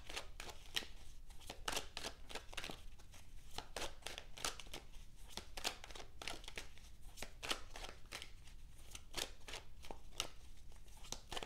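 A deck of tarot cards is shuffled by hand in a quiet room, giving a rapid series of soft riffling flicks and slaps that repeat steadily and close up.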